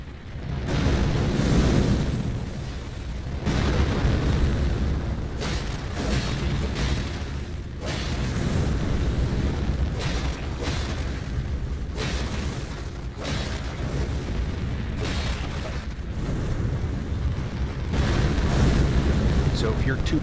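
The double-foot jump of an Elden Ring boss sets off repeated heavy booming blasts and rumbling bursts of game effects over about twenty seconds, with a person talking throughout.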